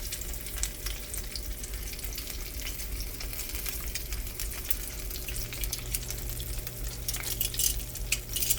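Trout frying in a pan, a steady close crackling sizzle of oil that continues without a break, joined partway through by a low hum, and no talking.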